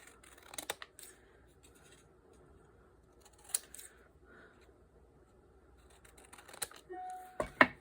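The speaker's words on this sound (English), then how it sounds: "So I'm going to cut like little odd pieces." Scissors snip small odd pieces of fabric in a few separate, crisp cuts spread across a quiet room, with a brief sharper clatter near the end.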